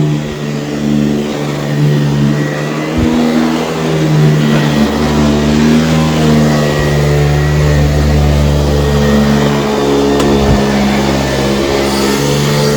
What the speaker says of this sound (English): It's also a lot louder because the brush bar is spinning faster.